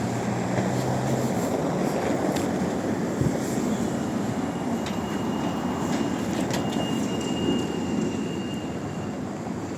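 A tram in Lviv, Ukraine, rumbles steadily past on a city street, with faint metallic wheel squeals and rail clatter over the continuous rolling noise.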